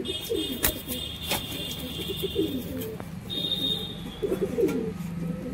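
Kolkata-line Giribaz pigeons coo in several soft, rolling bursts close by, with a few sharp clicks and steady background hiss between the calls.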